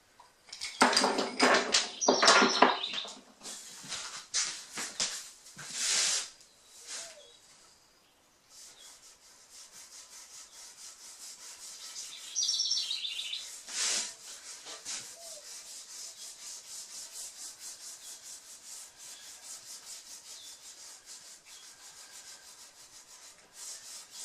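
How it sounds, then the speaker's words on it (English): Chalk rubbed along the edge of a wooden Roubo workbench slab being prepared for a joint, a series of scratchy rasping strokes, louder and busier at first, then softer sustained rubbing, close with no talk. "Rub some chalk on there."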